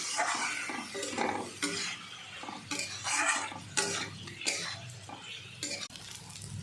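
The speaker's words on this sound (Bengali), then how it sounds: "ভালো করে নাড়িয়ে ছাড়িয়ে দিলাম" Fried potatoes and onions with spices and a little sugar being stirred in a pan, with repeated scraping and clinking of a spatula against metal over a soft sizzle, in irregular bursts close by.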